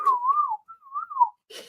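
A person whistles a short wavering tune in two sustained phrases, close and clear, with a brief breathy sound at the end.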